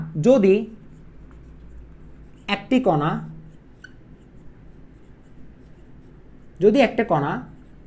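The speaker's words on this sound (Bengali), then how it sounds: "আমি একটু লিখে দিচ্ছি" Writing on a board produces faint intermittent scratching, heard between and under three short bursts of a person speaking in an otherwise quiet room.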